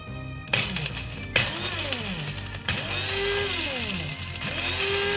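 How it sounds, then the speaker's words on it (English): A coffee grinder chops pieces of polymer clay in bursts, its motor whining up and down with rattling clatter between short pauses. "we're gonna take this coffee grinder here and grind them up"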